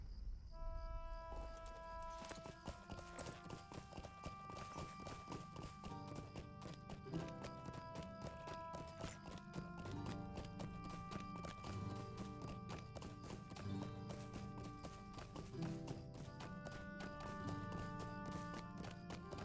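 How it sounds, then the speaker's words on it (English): Horse hooves clip-clop steadily in the video game Lord of the Rings Online, a quick regular rhythm of taps over ambient crickets and insects, with bright musical tones layered above. "Get on my horse, actually."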